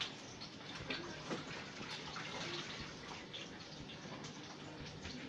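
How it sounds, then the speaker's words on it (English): Water runs steadily from a kitchen tap while a counter is washed, a soft continuous splashing hiss at moderate distance with no talking. "Let me wash the counter off."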